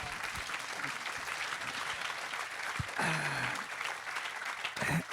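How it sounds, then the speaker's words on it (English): Audience applauding at a talk by a retired admiral, continuous crowd clapping with a few brief voices and a short tonal sound cutting through near the end. "That deserves applause,"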